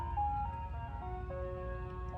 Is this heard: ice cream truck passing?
yes